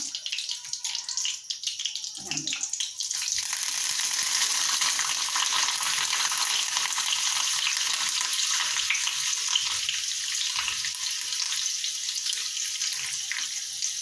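Curry leaves are dropped into hot oil for mirchi bhaji and burst into a loud, steady hiss of sizzling and crackling that holds without pause, with no voices.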